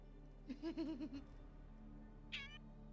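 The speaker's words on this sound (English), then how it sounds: "Accurately timed meow." A cat meows in a drawn-out, wavering call, followed after a pause by a short, higher-pitched mew, fairly close over a steady low background hum.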